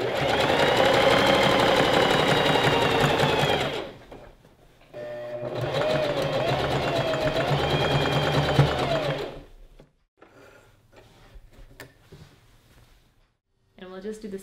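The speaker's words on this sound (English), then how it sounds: "then zigzag stitch all the way around" A sewing machine runs zigzag stitching around the edges of a gathered maxi dress in two long, steady bursts, each lasting several seconds with a short pause between. After the second burst come quieter clicks and handling noises.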